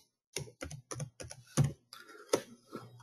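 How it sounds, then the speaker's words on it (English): Close, crisp keystrokes on a computer keyboard in a quick irregular burst of about eight taps, with a couple of heavier key presses, alone in a quiet room. "type in the word only"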